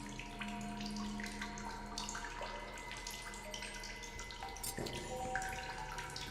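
Fresh water trickles steadily from a natural source in the survival game The Solus Project, a faint, continuous flowing wash with small splashy details and no talk over it.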